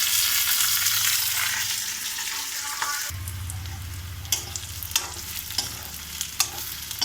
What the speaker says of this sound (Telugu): ఆనియన్, పచ్చిమిర్చి అన్నీ వేసేసుకుంటున్నామండి ఆయిల్లో